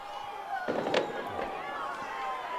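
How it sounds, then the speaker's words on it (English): Fireworks boom and crackle at a high school varsity football game between Hicksville and Fairview, a few distant bursts over steady outdoor crowd ambience with voices murmuring nearby. "we'll just keep it going here with the fireworks in the background"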